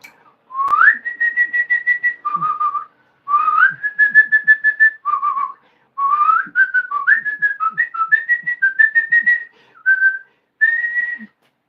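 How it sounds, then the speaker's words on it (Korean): A person whistles a bright, melodic tune in several phrases with brief pauses between them, clear and close, with no talking. "휘파람 한번 불고"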